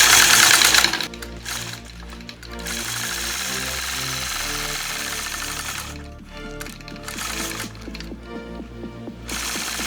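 A sewing machine stitches a quilt block guided by a Mini 4-N-1 ruler, its motor whirring steadily with rapid needle chatter, close and fairly loud, pausing briefly before running on in long bursts.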